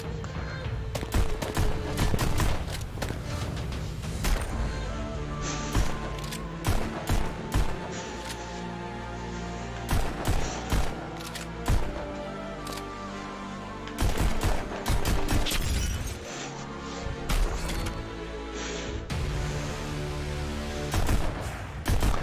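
Rapid bursts of gunfire in the VR shooter Pistol Whip, rhythmic shots synced to an electronic music beat, loud and dense throughout.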